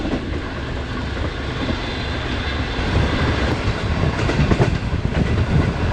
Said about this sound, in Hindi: ट्रेन हमारी इस वक्त जहांगीरा शहर में दाखिल हो चुकी है